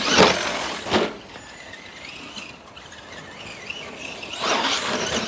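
A Traxxas Bigfoot 2WD RC monster truck pulls a wheelie, its small electric motor whining and tires squealing in bursts near the start and end with a quieter stretch between.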